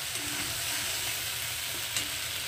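Mustard paste for hilsa curry fries and gets stirred in hot oil, a steady close sizzle with soft stirring underneath, constant and even.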